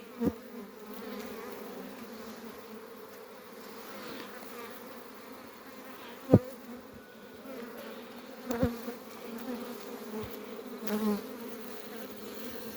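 Honeybees buzz at a hive in a soft, steady drone, with a few sharp knocks and clicks scattered through.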